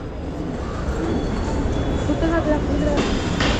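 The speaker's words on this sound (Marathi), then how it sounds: "मेट्रो तर आले" A metro train rumbles and squeals as it pulls into a station at Ghatkopar, a steady loud drone with faint high screeches near the end.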